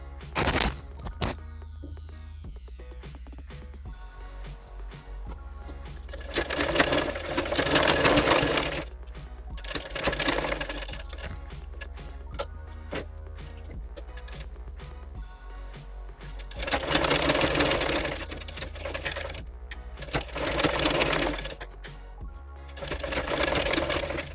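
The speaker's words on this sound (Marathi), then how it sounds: "बघा आपण आता गळ्याचा हा आकार पूर्ण शिवून घेऊया" A sewing machine stitches the back neck of a blouse in repeated bursts of rapid whirring, with pauses and small clicks in between, close and clear.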